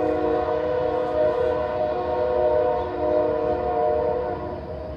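A train passes close by with its horn sounding: a loud, steady, sustained blare over a continuous rail rumble, holding throughout before easing slightly at the end.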